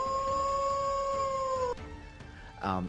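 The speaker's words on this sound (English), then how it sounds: "You hear off in the distance, another long howl." A wolf howl sound effect plays during a tabletop role-playing game session: a long, steady, sustained tone holds for nearly two seconds and is followed by a short, rougher rising cry.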